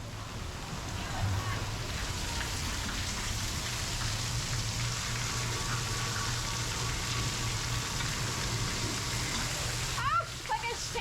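Water on a theme park water ride sprays down like a shower in a steady, dense hiss that never lets up, with a low hum underneath and a voice talking over it.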